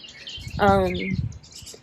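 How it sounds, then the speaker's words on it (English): Birds chirp outside near a backyard bird feeder, with small, scattered high tweets throughout. A brief, steady voice-like tone rises in the middle. "I love listening to the birds."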